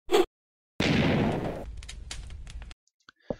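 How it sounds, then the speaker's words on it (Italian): A thrown explosive in the Minetest game bursts with a loud, broad blast, then crackles and clatters as blocks scatter, set between short sharp clicks at the start and end. "fa anche un bel, eh, un bel suono di esplosione"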